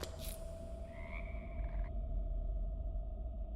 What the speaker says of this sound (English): Ignoring the frog croak.